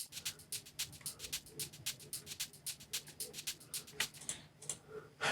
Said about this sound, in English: So these shakers sound like this alone.